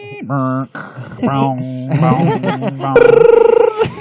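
A human voice mimics a dial-up modem connecting, with warbling pitched tones, a short break, then a buzzy screech and rapid chirps, loud and close.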